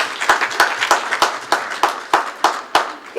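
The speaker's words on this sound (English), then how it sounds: "Can we give them a round of applause?" Audience applause at a public gathering on the Bangladesh election, sharp claps landing in a loose, regular rhythm, fairly loud and close with no talk over it.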